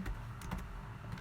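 Soft, close keystrokes on a computer keyboard tapping out a short entry, a few quick clicks over a steady low background hum.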